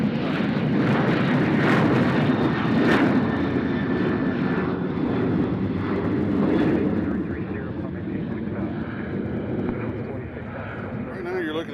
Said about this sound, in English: Right now you're looking at a distance shot of an A350. Coming in from London Heathrow.